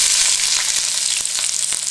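Onions frying in smoking-hot oil for samosas, a loud close continuous hiss and crackle with faint stirring ticks underneath.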